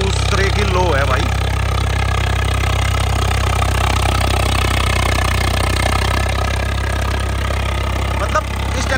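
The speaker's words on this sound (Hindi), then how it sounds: "मतलब इस ट्रैक्टर के साउंड है ना भाई" A tractor engine runs continuously nearby with a deep, steady rumble, while voices talk over it.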